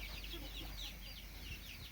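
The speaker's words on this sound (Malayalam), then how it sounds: "ഇതാണ് നമ്മുടെ സുന്ദരി നാടൻ കോഴി" A native country hen clucking faintly in short, repeated calls over a low, steady background hum.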